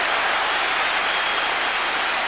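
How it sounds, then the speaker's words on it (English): A football stadium crowd roars steadily through a 1997 Champions League night between Newcastle United and Barcelona, a dense continuous wash of cheering with no break. "Crowd loving this."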